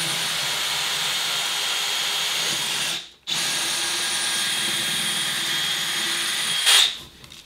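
A power drill whines steadily and loudly while drilling holes in a crawler build, stopping briefly partway through before running again, then cutting off near the end.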